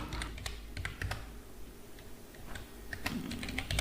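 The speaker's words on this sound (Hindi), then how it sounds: "अब जैसे मैं यहाँ एक मोबाइल नंबर इंटर कर रहा हूँ" Mobile number typed on a computer keyboard: rapid, close key clicks come in uneven bursts with short pauses in between, and no one speaks.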